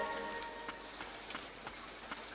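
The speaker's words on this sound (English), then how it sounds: "Oh, this is like one of my favorite parts of the game is the rain." Steady rain falls in a video game, a dense, even patter of drops on surfaces with scattered sharper splashes, continuous throughout and heard alone without any voices.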